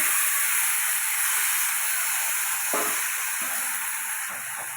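Drumstick-flower paturi mixture going into hot oil in a wok, a close, steady sizzle and hiss that hold throughout, with a few light clinks.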